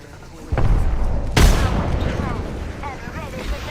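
Frag grenade going off in Apex Legends: a heavy thud followed by a sharper, louder blast a moment later, with rumbling game noise and scattered clatter trailing afterward.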